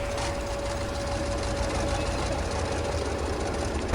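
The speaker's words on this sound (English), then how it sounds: "so you go up to start the engine" A video game tractor engine in Farming Simulator 2015 idles with a low rumble and a faint whine, running evenly throughout without a clear start-up.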